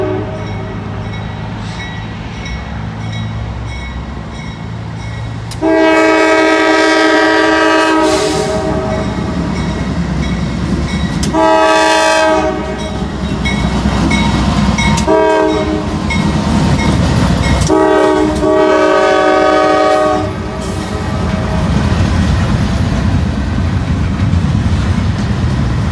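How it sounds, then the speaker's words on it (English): A southbound Norfolk Southern intermodal freight train rolls past on a rainy day, its horn sounding in several loud, sustained blasts over the steady rumble and clatter of the passing cars. "you got a Southbound NS intermodal here. He's going to change tracks and go down to Newcastle."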